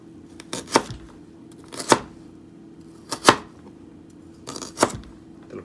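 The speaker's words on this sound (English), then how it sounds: "Then you dice these up." Knife dicing vegetable matchsticks on a cutting board for tandoori shrimp, four crisp separate chops spaced about a second apart, close and clear against a quiet background.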